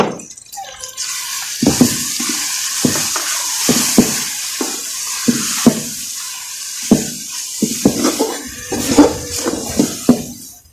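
Garam masala, cumin and other spices stirred and mixed in a cooking pot for an arvi curry, with repeated scraping spoon strokes and wet sizzling, close and fairly loud.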